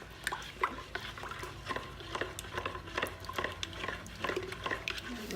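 Melted coconut oil for soap making is stirred in a pot with gentle, steady scraping and light clinks, close and soft, running continuously for a few seconds.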